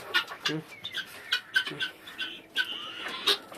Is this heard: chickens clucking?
yes